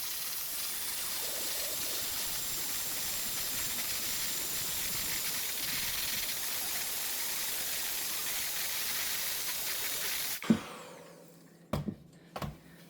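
An electric mixer beats egg foam for a keto Spanish almond cake (Tarta de Santiago) with a steady, loud whirring hiss for about ten seconds, then stops, followed by a few clattering knocks.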